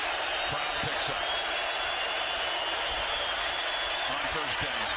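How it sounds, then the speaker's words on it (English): A football stadium crowd at a Lions at Roughriders game, a dense, steady roar of voices swelling in the background while an announcer talks over it. "Crowd picks up."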